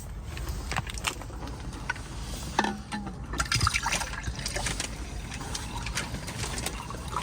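Water glugs and splashes as it is poured from a big container at a Jeep camp with a rooftop tent, a close, uneven trickle with a few louder spills over faint ambient noise.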